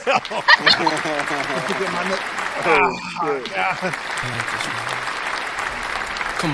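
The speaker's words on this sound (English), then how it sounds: "Applaud him" Loud, sustained applause from a small group fills the clip, mixed with chuckles and several people talking and reacting over it, with a brief burst of louder voices near the middle.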